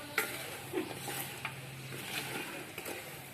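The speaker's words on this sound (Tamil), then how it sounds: "அதிரசத்துக்கு வெள்ளைப்பாவு காய்ச்சுறாங்க." White sugar syrup for athirasam boils and is stirred in a pan, giving a steady bubbling sizzle with soft scraping stirs, close and moderately quiet, with no voices.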